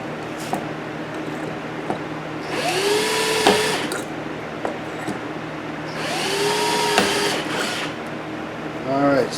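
A handheld drill bores small holes in two separate bursts of a few seconds each, a close whirring whine over quiet workshop background.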